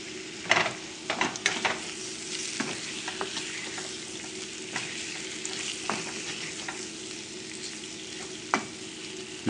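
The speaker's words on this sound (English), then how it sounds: "I like to cook the shrimps quickly." Shrimps fry quickly in a pan over a large burner, a constant sizzling hiss punctuated by sharp scraping and tossing knocks at irregular intervals, with no one speaking.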